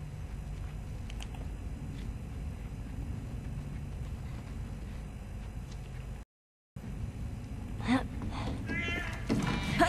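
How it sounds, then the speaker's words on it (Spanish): A cat meows in The Last of Us: Left Behind, a short cry heard late over a steady ambient game background, following a brief dropout to silence. "Me cago en el puto gato"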